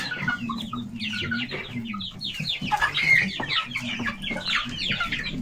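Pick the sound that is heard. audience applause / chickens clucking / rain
chickens clucking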